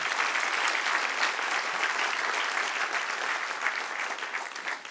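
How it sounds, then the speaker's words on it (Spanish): A church congregation applauds during a pastor's sermon. Hands clap in a broad, even wash that is heard from a short distance, holds steady and tapers slightly at the end. "Denle un aplauso al Señor."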